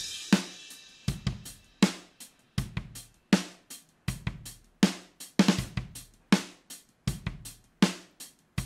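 Addictive Drums 2 virtual drum kit heard through the overhead mics, a regular groove of sharp cymbal-bright hits with kick and snare, each stroke decaying quickly into near silence between beats.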